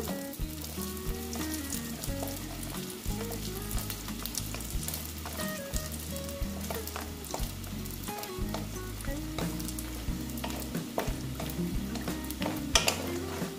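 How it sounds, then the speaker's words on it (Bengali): Bori, small lentil dumplings, frying in hot oil, giving a steady close sizzle with crackling pops throughout, a low tonal music-like drone running beneath. "বড়িগুলো প্রায় ভাজা হয়ে গেছে।"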